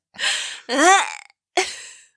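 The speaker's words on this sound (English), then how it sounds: "one of those huge Sprite burps is gonna come out of you" A long, deep burp from someone who has been drinking Sprite, rising and falling in a croaky gurgle, with a shorter belch before it and another after a brief pause, loud and close in a quiet room.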